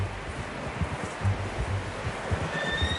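A horse in the Red Dead Redemption 2 video game shifts and snorts nearby, with soft low rumbles and a few brief whinny-like tones over rustling ambience, no talking.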